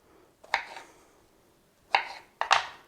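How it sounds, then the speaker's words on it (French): Button mushrooms quartered with a knife on a board, three sharp chopping knocks close up with quiet pauses between. "je les coupe en 4 et je les mets dans mes bocaux"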